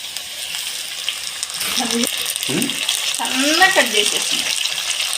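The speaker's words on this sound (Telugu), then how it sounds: "సన్నగా తరిగి పెట్టుకున్న టమాటా ముక్కలు కూడా వేసేద్దాం" Finely chopped tomato pieces drop into onions frying in a pan, with a wet sizzle and stirring under a person's speech.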